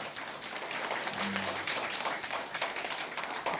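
A seminar audience gives a lawyer steady applause, a dense hiss of many hands clapping at moderate, fairly distant level that runs through the whole stretch without a break.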